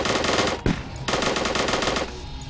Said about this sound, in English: I bought an assault rifle, guys.